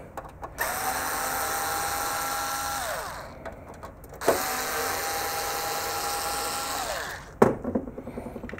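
An electric screwdriver backs out screws from the power supply box of an EMC VPLEX VS2 data storage system, two whirring runs of a few seconds each with a rising then falling pitch, close and moderately loud, ending in a sharp clack.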